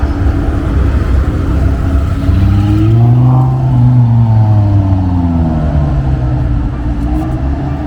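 A Lamborghini engine drones loud and close with a deep rumble that rises and falls in pitch, as if the car accelerates past, over constant road and traffic noise.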